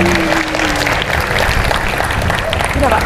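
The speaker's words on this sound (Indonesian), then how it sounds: "Oke, beri tepuk tangan." Students clap together at a Thursday morning school assembly: continuous, close, busy applause that lasts the whole moment, with a voice briefly heard over it.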